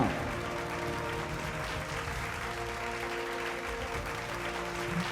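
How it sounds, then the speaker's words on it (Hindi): An awards-show audience at the Zee Media Bhojpuri Samman 2026 breaks into loud, sustained applause. The dense clapping holds evenly throughout, with no talk over it. "जोरदार तालियां।"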